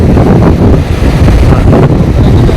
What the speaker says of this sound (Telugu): గాలి అయితే ఫుల్ బీభత్సం ఉంది గాలి వస్తుంది ఇక్కడ